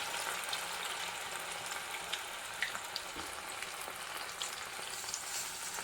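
Cauliflower pieces frying in oil over a medium flame make a continuous soft crackling sizzle with scattered small pops, fairly quiet and unbroken throughout.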